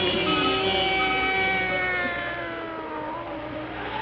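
A black cat named Satan, kept by an old witch, meows in a drawn-out, wavering cry for several seconds, close and fairly loud, its tone slowly sliding down in pitch over a steady background hiss.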